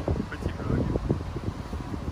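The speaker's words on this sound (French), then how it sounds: "je pense qu'il y a du vent, donc on va pas entendre" Outdoor wind buffeting a microphone, a continuous low rumbling roar with gusty swells throughout, mixed with faint voice-like sounds.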